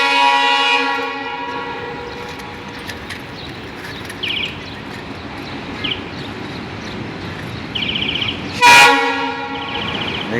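A train rolls through a crowded residential area, its long horn sounding in several sustained blasts over a steady rumble, with a loud, sharp burst near the end.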